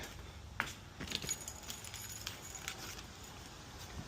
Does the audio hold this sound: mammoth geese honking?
no